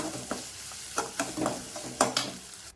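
Mustard seeds and spices tempering in hot oil for a bottle gourd kootu give off crackling sizzles with a string of sharp pops and spoon stirs, close by.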